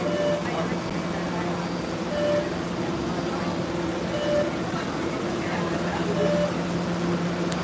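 A subway train on the Orange Line rumbles steadily throughout, with a constant low hum and faint recurring tones riding over the car noise, a voice occasionally heard beneath.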